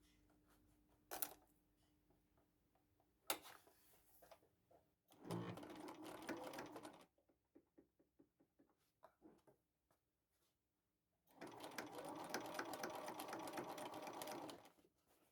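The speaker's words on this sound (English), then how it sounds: "I'm just sewing very slowly" A sewing machine stitches a bucket hat slowly, in short bursts and two longer runs of a few seconds each, with faint clicks and handling noises in the quiet gaps.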